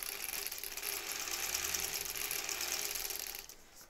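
Sewing machine stitching a foundation paper pieced quilt block, running backwards a stitch or two and then forward again; a continuous close whirring mechanical drone with a faint rhythmic pulse that stops near the end.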